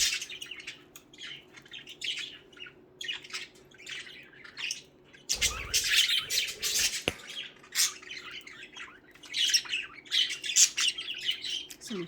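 Pet budgerigars squawk and chirp loudly in a dense, overlapping chatter while fighting indoors, with harsh bursts building and fading across the whole stretch and a brief thud partway through.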